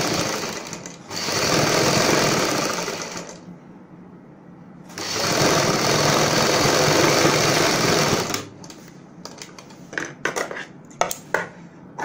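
A sewing machine runs in two long bursts while stitching the side seams of a kameez, each a loud, steady mechanical whir. Short pauses separate the bursts, and they are followed by scattered clicks and handling noises.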